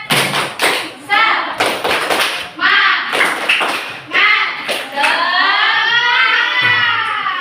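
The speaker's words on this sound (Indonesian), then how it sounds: "Oke, kita tepuk dulu. Tepuk semangat." Children in a classroom clap the rhythmic 'tepuk semangat' pattern, loud hand claps and thumps falling in quick groups, mixed with their chanting voices that stretch into a long shouted call at the end.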